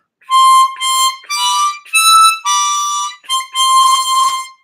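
A tremolo harmonica plays a short melodic phrase of about six blown notes, each held briefly with small gaps between them, close and fairly loud with no talking.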